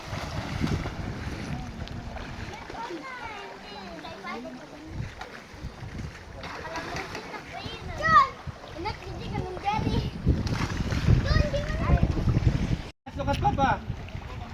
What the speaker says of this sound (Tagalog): mga bata pa lang yan pero gagaling na lumangoy.